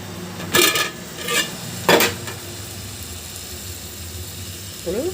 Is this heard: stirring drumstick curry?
yes